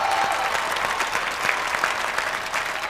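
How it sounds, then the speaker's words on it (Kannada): A group of people clapping steadily and briskly for a few seconds, a dense wash of applause. "ಓಕೆ ಚಪ್ಪಾಳೆ"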